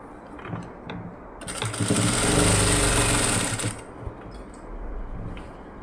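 A sewing machine stitching a folded chudidar hem runs in one continuous loud whirring burst lasting about two seconds. Quieter handling noises come before and after it, with no talk.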